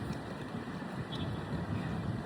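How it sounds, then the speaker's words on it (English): Steady low rumbling wind buffeting outdoors, a constant blustery roar with no voices. "It's a little bit windy, as I'm sure you probably can hear from the sound there."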